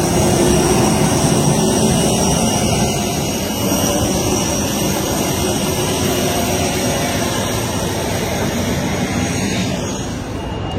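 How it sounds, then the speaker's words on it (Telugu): Aircraft jet engines roar loud and continuous at Bengaluru airport, a steady broadband rush with a high whine that holds for the whole stretch. "బెంగళూరు ఎయిర్పోర్ట్."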